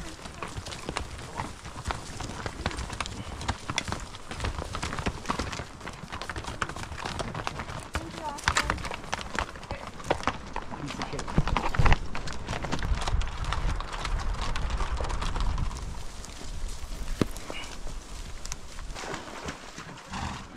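Horses' hooves clip-clop on a narrow trail through thick timber, a steady, busy run of close, fairly loud footfalls with occasional louder thumps, while people talk over it.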